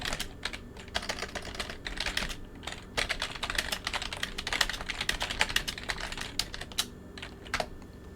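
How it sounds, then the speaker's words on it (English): Rapid typing on a computer keyboard, with steady bursts of close, crisp key clicks and short pauses, and no talk. "Let's actually type that in chat"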